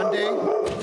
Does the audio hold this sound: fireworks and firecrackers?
no